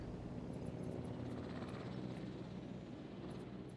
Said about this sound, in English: Here comes helicopters. Look at that, all three of them are coming at the same time.